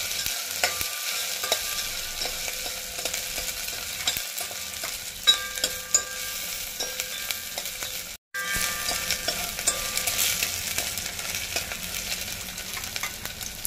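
Crushed green chillies and garlic frying in hot oil in a pan, with a continuous crackling sizzle, spoon scrapes and taps, and one abrupt momentary dropout partway through.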